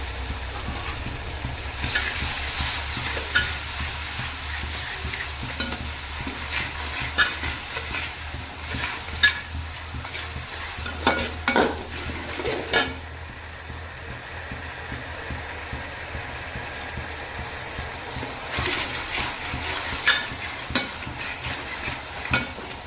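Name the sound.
ginger garlic paste sautéing with onions for turkey biryani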